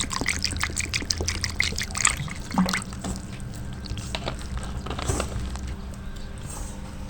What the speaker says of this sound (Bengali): শুধু ময়দাটাই জল দিয়ে মেখে নেব